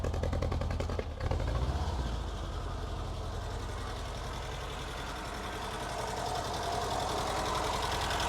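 An old Ford barn find engine idles roughly and misfires, making a fast uneven ticking and knocking patter over a low rumble. A brief bump comes early, then the engine settles into a steady, moderately loud run.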